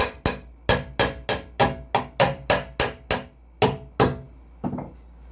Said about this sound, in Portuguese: Peguei 3 pregos e martelei aqui, ó, no meio da minha base.